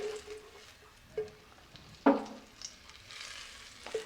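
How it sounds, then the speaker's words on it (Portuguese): Garlic browning in oil in a pan for risotto, a soft sizzle under scattered stirring scrapes and taps of a utensil against the pan, close and quiet with a few sharper clinks, and no voices. "Depois que o alho dá uma douradinha, a gente tira ele fora."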